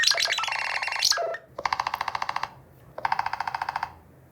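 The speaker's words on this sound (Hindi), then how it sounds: "ये जो रिंगटोन है वो वुड पैकर के जैसी लगती है" A phone ringtone of rapid, evenly spaced tapping bursts like a woodpecker drumming, preceded by a brighter chiming phrase, clear and close.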